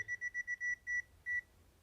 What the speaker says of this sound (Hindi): तो ये NCV है जो हमारी बीप करने लगी, मतलब इस वायर में हमारे AC लाइन दौड़ रही है।